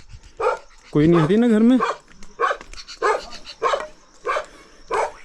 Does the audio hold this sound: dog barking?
yes